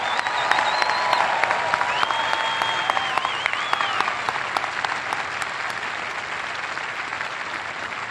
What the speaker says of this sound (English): please join me in a heartfelt round of applause to our great partners